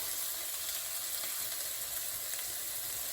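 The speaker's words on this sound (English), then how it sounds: "you want to start putting your vegetables in the order that they take longest to cook. So the carrots are likely to be the longest." Carrots stir-frying in a hot pan give a constant, even sizzle and hiss that fills the short stretch without pause or voices.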